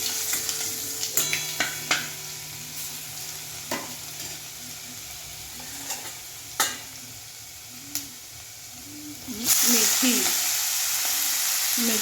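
Garlic dropped into hot oil with cumin and asafoetida, sizzling steadily under repeated spoon clinks and stirring taps, then a louder burst of frying near the end.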